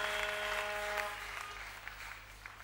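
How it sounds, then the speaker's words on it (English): A church congregation claps together in worship, a steady dense patter of many hands that fills the space and slowly tapers off, with no voices rising above it. "Clap again to the glory of God."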